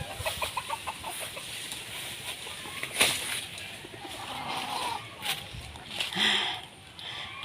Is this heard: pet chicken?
yes